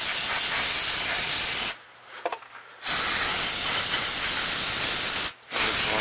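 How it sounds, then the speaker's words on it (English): Brake cleaner sprayed from an aerosol can onto car parts during a manual pedal swap on a Honda CR-V, a loud steady hiss running long, broken by one short pause and then a brief gap. "Everyone knows brake cleaner is so bad."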